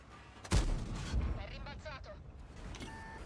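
Tank cannon fire in the World of Tanks video game, a loud heavy boom near the start followed by a second blast and rumbling battle noise, with a voice talking over it.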